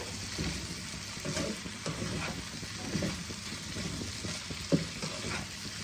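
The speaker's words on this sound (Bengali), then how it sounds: "এবার ঢাকা দিয়ে দিয়ে আমি রান্না করব।" Mixed vegetables cooking in a covered pan, a soft steady sizzle and bubbling with occasional light clicks, close and quiet, no talking.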